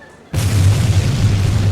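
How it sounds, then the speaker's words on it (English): Star Wars Death Star explosion effect, a sudden loud boom bursting in after a moment of quiet, then a heavy sustained roaring rumble that holds to the end. "that is another Death Star blowing up."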